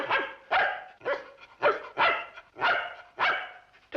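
A dog barks in a steady series of about eight sharp, close barks, loud and evenly spaced, with no talking.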